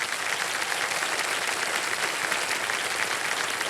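Studio audience applauding on a televised quiz show, a loud, dense and steady burst of clapping with no break over a few seconds.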